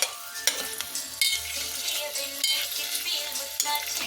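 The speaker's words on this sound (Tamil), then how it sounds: "கொஞ்சம் தேங்காய் எண்ணெய் ஊற்றி பன்னீரை ஃப்ரை பண்ணிவிட்டு" Paneer fries in coconut oil in a pan, a close, steady sizzle broken by sharp scraping clicks of a spoon or spatula stirring every second or so.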